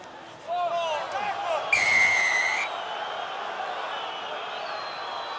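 A referee's whistle shrills once in a sustained blast of about a second during a rugby union match between France and New Zealand, rising over a steady crowd roar, with a commentator talking before it.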